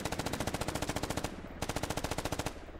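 A tactical squad shooter game lets loose two long bursts of rapid automatic gunfire. The evenly spaced shots are loud and close, with a brief pause between the bursts and no talking.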